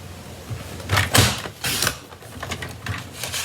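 A paper trimmer blade slides through shaded spruce cardstock in a few close, scraping strokes, each a short rasping cut with faint mechanical clicks between.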